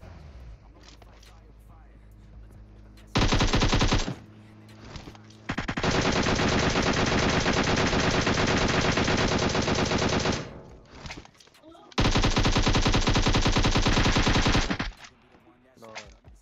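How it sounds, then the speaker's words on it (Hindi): Automatic gunfire in the mobile battle-royale game PUBG Mobile, several long sustained bursts of rapid shots separated by brief pauses and scattered single shots, loud and close. "यहाँ पे मैं लगभग लगभग 100 गोली बर्बाद कर देता हूँ"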